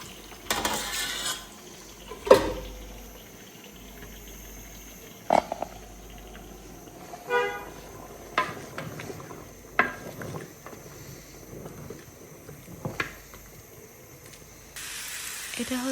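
Pots and utensils clank now and then while noodles cook in a home kitchen, sharp isolated knocks and scrapes spaced a few seconds apart over a faint steady hiss, with no one talking.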